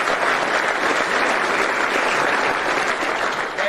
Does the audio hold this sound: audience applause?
yes